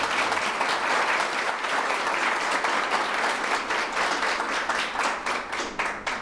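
An audience at a Universidad Sergio Arboleda forum applauds a presidential candidate, with dense, steady clapping from a sizable crowd that holds strong for about six seconds before thinning slightly at the end.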